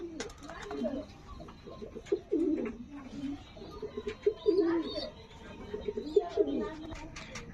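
Pigeons coo in soft, repeated throaty bursts close by, with occasional chirps and a voice speaking in the background.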